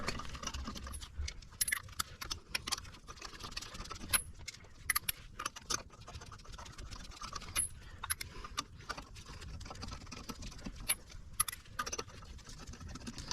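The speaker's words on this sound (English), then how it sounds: "Get all the lug nuts started by hand so you don't cross thread any of them." Lug nuts spun by hand onto a Camaro front wheel after a brake pad replacement, giving intermittent metallic clinks and light rattles scattered over a steady low background, with no talking.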